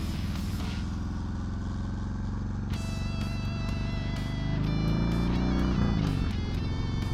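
Harley-Davidson motorcycle fitted with a Stage 1 slip-on exhaust, its deep rumbling engine building steadily in loudness as it accelerates, close and continuous with no talk.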